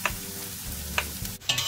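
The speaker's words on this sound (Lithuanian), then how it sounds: "Susipjaustim svogūną. Apkepinam." Sliced onion fries in a pan with a steady low sizzle, broken by a few sharp clinks and scrapes of stirring. No one talks.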